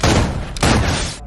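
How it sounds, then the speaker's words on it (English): Gunfire in a western movie shootout, a loud, dense burst of overlapping shots and booms close up, with a brief dip midway before a second volley rings out and fades. "A whirlwind of gunfire, knife slashes, and arrows pierce the silence."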